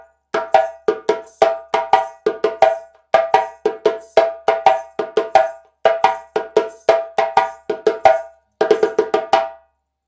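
Djembe plays the second solo phrase of the Guinean rhythm Fakoly: sharp, close hand strikes in quick repeated groups with brief pauses, ending in a short roll, no talking.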